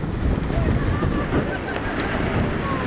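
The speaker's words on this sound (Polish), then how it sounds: "Trochę wieje." Wind gusting beside a mountain lake, a short burst of loud, rumbling buffeting against the microphone with a hiss of moving air.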